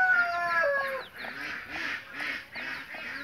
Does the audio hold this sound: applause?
no